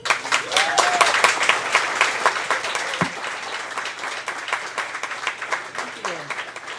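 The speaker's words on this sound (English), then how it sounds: "please a warm applause for Georgia Kelly" Audience applause welcoming a speaker on stage at a community talk, a steady wash of many hands clapping at even loudness that carries through the whole stretch, with no talk over it.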